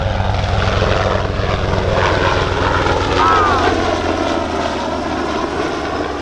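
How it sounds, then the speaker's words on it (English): A Coast Guard helicopter drones overhead with a steady, rumbling rotor throb, loud and continuous, swelling slightly as it passes. "This is like a military helicopter."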